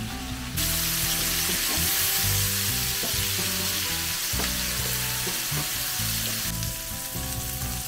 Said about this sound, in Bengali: তো চিংড়ি মাছগুলো বেশ ভাজা ভাজা হয়ে যাচ্ছে।